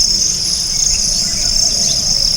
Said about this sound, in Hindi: देखिए चिड़ियों की चहकने की आवाज़ है।